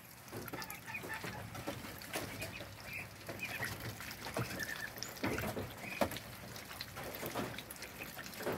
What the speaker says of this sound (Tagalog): Ang mga ducklings namin na alaga.